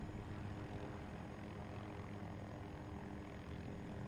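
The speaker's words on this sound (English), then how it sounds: "But as you could see in this gameplay, helicopters fucking shred." A Little Bird helicopter in Battlefield 2042 gameplay gives a steady, dense rotor and engine drone, constant and fairly close with no break.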